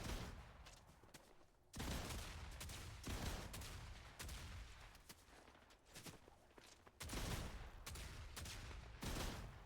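Video game gunfire: repeated sharp shots and bursts in irregular clusters, fairly loud and close, with no talking.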